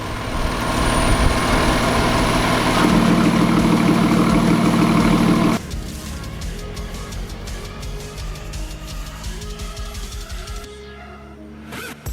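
A Lotus Evora 400 sports car's deep, throbbing engine idle rumbles loudly, then drops to a rougher, lower exhaust burble after about five seconds, fading slightly toward the end.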